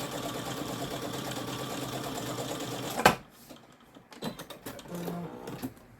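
Sewing machine stitching quilting lines through fabric backed with fusible fleece, a fast steady mechanical whir that runs for about three seconds, stops abruptly, and gives way to quieter handling clicks.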